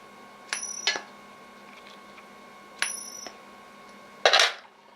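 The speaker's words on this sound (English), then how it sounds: "I could actually flip the coins and you could actually probably hear it for yourself" Three separate metallic coin flips, one a silver coin and one a regular coin, ring out, each a bright ping and wobble, spaced a couple of seconds apart in a quiet room.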